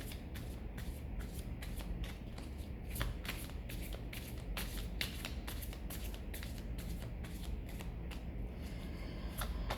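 Tarot cards being shuffled by hand in steady, rapid repeated bursts of riffling and sliding that run close and continuous for about ten seconds, with no talking.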